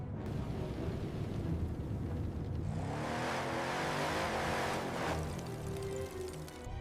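A car engine revs and strains while stuck in a strong storm, a loud steady roar that swells into heavier rumbling over continuous wind and rain noise, with no talking.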